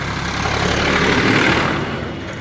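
Heavy engine rumble from tractors going past on a busy road, a steady, loud drone that swells in the middle and eases slightly toward the end, with no talk over it.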